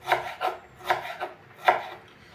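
A knife slices fresh, unpeeled ginger on a cutting board, giving five soft crisp cuts at an irregular pace, close and quiet, with no talking.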